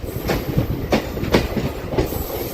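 A MEMU train runs alongside a tanker train, loud rhythmic clickety-clack of wheels over rail joints heard from on board, with steady rumbling between the beats.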